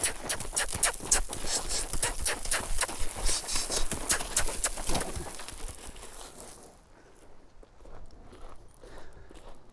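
Hooves clop in quick, uneven steps as a horse is backed up, close and crisp for several seconds before thinning to a few scattered footfalls, with faint birdsong in the background.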